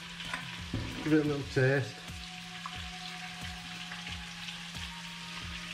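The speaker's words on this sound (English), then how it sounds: "We whisk all that together," A whisk beats milk into mashed potatoes with a steady rhythm of soft, regular strokes, joined by a brief burst of speech early on.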